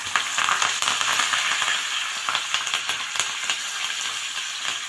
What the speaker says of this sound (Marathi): तेल तापलं की एक चमचाभर मोहरी घालून घ्यायची आहे चिमूटभर हिंग आणि कडीपत्त्याची पानं घालून घेऊयात